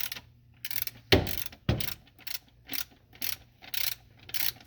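A socket ratchet tightens bolts during an in-place KA24DE engine rebuild, giving crisp repeated clicking strokes in an uneven rhythm, with two louder sharp clacks early on. It is close up, with a low hum underneath.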